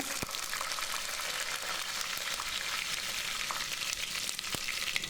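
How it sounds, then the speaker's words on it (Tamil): Mustard seeds, urad dal and curry leaves frying in hot oil for a tomato chutney, a steady close crackling sizzle with scattered sharp pops, continuous throughout with no voices. "ஆயில் நல்லா சூடானதும் கடுகு உளுத்தம்பருப்பு சேர்த்துக்கோங்க."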